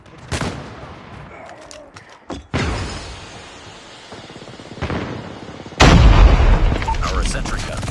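A German gun fires in a Call of Duty Mobile hardpoint match, with three loud bursts of shots separated by quieter game ambience; the last burst is the heaviest and runs to the end.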